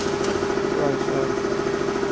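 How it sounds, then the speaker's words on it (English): An air compressor runs steadily in a garage while chrome steel wool cleaning goes on, a constant mid-pitched motor drone with a fixed tone holding through the whole stretch, with no speech. "Air compressor's building up."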